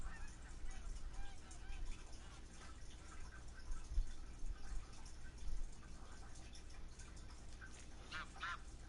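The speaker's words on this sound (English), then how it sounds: "Tundras, I think they're still coming in. No, those are Canadas." Flocks of Canada geese in a waterfowl hunting video game honk steadily at a distance over a constant wash of ambient background noise, with a sharper burst of calls near the end.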